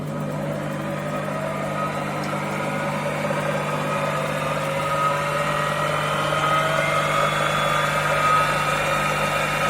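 Homemade wood lathe running at about 1000 rpm on uneven paving stones, a steady droning motor hum with a constant whine and mild vibration, unbroken and with no voices.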